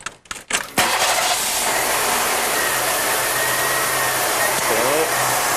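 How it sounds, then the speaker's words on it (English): A warmed-up car engine idles steadily during an engine performance test, a continuous mid-level hum after a few brief knocks at the start, with a faint chirp near the end. "So I'll start the car, and we'll do that."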